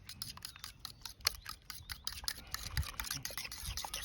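Egg mixture with soy sauce and a little oil being beaten in a bowl for Thai steamed egg (khai jan), giving a rapid run of close clicking and tapping strokes throughout.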